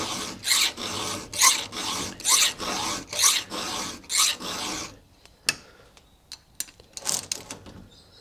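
Hand filing of a badly damaged chainsaw chain, with the file rasping in strong, rhythmic strokes about once a second, followed by quieter clicks and scattered light rasps.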